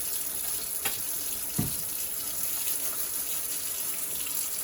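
Running tap water pours steadily into a sink while a blonde wig is co-washed with conditioner, a close continuous splash with a couple of brief knocks of handling.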